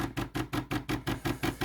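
A rapid, rhythmic mechanical pulsing, about five beats per second, as a DeLonghi Dedica EC680A espresso machine's pump chugs steadily at close range feeding water through.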